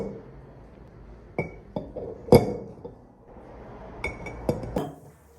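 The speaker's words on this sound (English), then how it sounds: "Gently place each egg into the jar, being careful to avoid any impact that could crack the shell." Eggs go into a glass jar with a series of light, sharp clinks and taps, some spaced apart and a few in quicker succession, close and clear in a quiet room.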